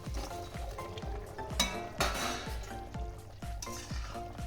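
Papaya koftas drop into a simmering vegetarian potato curry, giving a steady close sizzle and bubbling with several soft thuds and clinks from the pan as each piece goes in.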